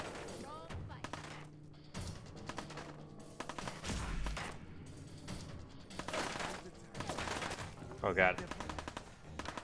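Rapid bursts of gunfire from a Raider in Fallout 4 crack repeatedly in quick volleys throughout, loud and close, with a player's voice exclaiming between shots.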